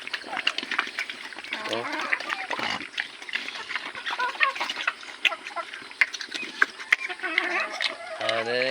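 Chickens cluck among other farmyard animal noises, with people talking close by throughout.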